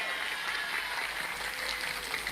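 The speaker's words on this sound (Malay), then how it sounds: "Tepuk tangan untuk Mojosari Bogor." A crowd at a religious gathering in Mojosari applauds in a soft, distant wash of clapping, steady and low for a couple of seconds with a faint hum underneath.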